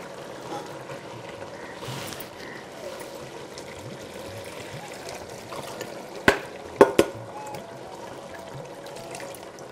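Water is poured into a pot of country chicken curry as a continuous trickling wash that lasts throughout, with a few sharp clinks of a vessel near the end.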